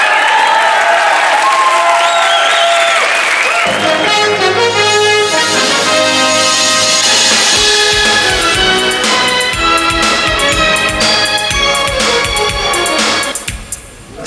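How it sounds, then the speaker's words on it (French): A studio audience on a French television talk show applauds loudly amid music, with a full, sustained wash of clapping that carries through to the end and fades briefly at the close. "On les applaudit, bravo."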